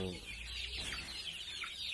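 Young native chickens about a month old peep and cluck together in quick, high, wavering calls, near and fairly quiet, over a faint low hum.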